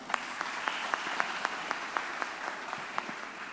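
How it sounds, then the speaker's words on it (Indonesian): An audience at a campus talk on personal branding claps together, producing a faint, fairly steady patter of individual claps at a distance with no voices. "Tepuk tangan bareng-bareng dong"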